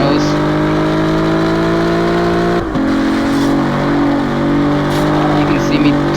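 A car in the Gear.Club Stradale racing game accelerates with a loud, steady engine drone that rises in pitch and then drops briefly at a gear shift before climbing again.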